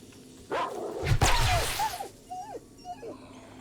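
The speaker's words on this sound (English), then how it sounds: "Dumbass dog." A dog in 7 Days To Die lets out a short burst of barks and whining yelps, close and fairly loud, followed by a few fainter whimpers trailing off.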